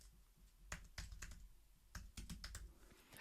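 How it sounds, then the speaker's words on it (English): Fingers tap out a short, irregular burst of keystrokes on a computer keyboard, a few quick clicks in two small clusters, quiet and close with no one talking. "I'm just going to type in Google."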